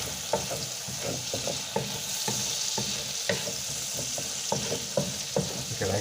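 Garlic and soy sauce sizzle steadily in a hot pan while being stirred, with a run of sharp scraping clicks from the utensil over a constant frying hiss.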